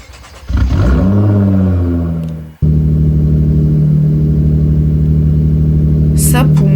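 A Nissan GT-R engine in a video game revs up hard, briefly drops off, then holds a loud, steady high-rpm drone, with a short higher whine near the end.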